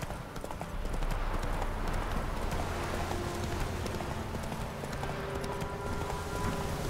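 Roach, the horse in The Witcher 3 video game, gallops with rapid rhythmic hoofbeats under steady game ambience and music, continuous and moderately close.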